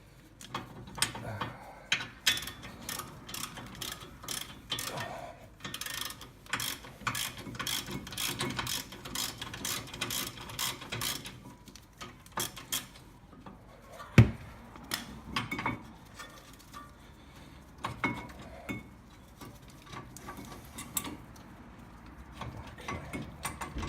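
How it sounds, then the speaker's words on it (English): A 1/2-inch ratchet clicks in rapid bursts of rhythmic ticks while undoing the brake caliper carrier bolts on a VW Polo MK4 GTI, close and crisp, with short pauses and one sharp knock between runs. "I managed to do it all with this 1/2" ratchet"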